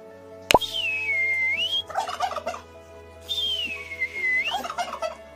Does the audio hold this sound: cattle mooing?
no